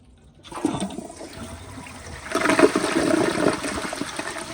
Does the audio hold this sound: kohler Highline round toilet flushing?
yes